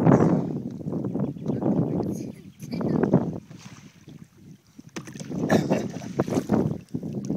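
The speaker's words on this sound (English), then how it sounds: "And then paddling one-handed here." Kayak paddling on a guided tour at Rookery Bay near Naples, Florida, with close rhythmic splashing strokes in repeated surges, the paddle dipping and pulling through water amid wind buffeting the microphone.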